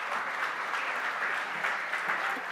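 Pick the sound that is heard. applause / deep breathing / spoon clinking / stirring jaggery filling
applause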